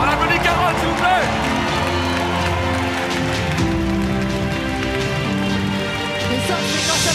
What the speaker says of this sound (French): On applaudit Carole, s'il vous plaît!